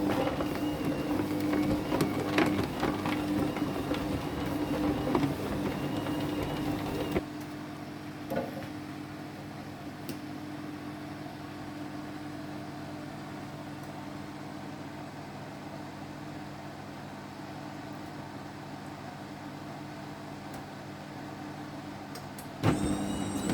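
An Optimum Mamma Mia pasta maker mixes and extrudes damp red lentil dough, its motor droning steadily with a louder rattling phase first, then a quieter even hum and a couple of faint clicks.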